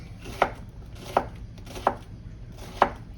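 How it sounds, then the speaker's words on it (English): A kitchen knife rough-chops cabbage on a board with four sharp, evenly spaced chops close to the mic, with no talking. "So we're just gonna kind of rough chop this."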